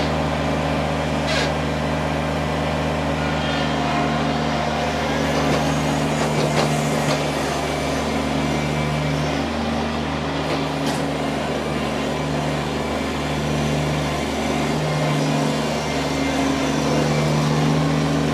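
A 2022 Kubota BX2380 compact tractor engine runs at a steady idle, a constant low mechanical hum with faint rattles, close by and unchanging throughout.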